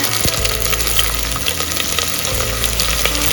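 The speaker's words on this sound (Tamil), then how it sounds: "இப்போ நல்லா நைஸாக கட் பண்ணி வச்சிருக்கிற வெங்காயம் இது நல்லா இப்படி பிசைஞ்சு போட்டுக்கோங்க." Finely sliced onions fry in a pan for Dindigul chicken biryani, giving a steady, close sizzle and crackle with occasional stirring sounds and no talking.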